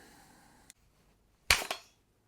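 Single sharp air rifle shot fired through a Pistelle x68 barrel with suppressor, a brief muted crack with a quick tail, standing alone after a faint click and near-silence.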